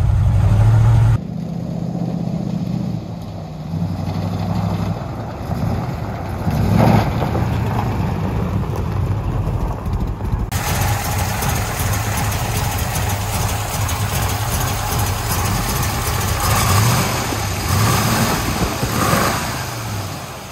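A 1940 Mercury Club Coupe street rod with Muncie 4-speed idles through two glasspack mufflers, one rusted through, producing a steady, close, low burbling rumble throughout with no speech.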